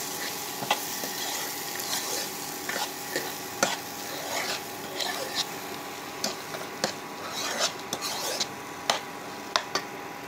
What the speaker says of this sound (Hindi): अब इसे अच्छी तरह से हम मिक्स कर लेंगे।